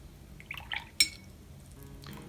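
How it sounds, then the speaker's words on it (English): A paintbrush is dipped into a glass of water during brush-stroke painting: a few quiet liquid swishes and drips, followed by one sharp clink of the brush against the glass, with no voices. "Dip it in the water, put it in the paint"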